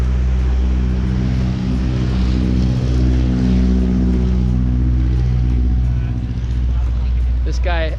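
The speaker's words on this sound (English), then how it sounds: "Nothing better than having some airplanes taking off, landing every couple minutes here" Aircraft engines rumble steadily near an airfield at a Saab car gathering, a loud, continuous low drone filling the whole span, with a rising whine near the end and people talking over it.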